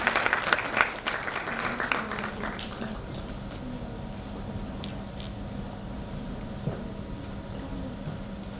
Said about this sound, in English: So let's all welcome her with a round of applause.